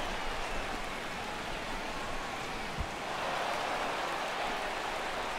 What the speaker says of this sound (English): This may have something to do with the rain that's falling out there.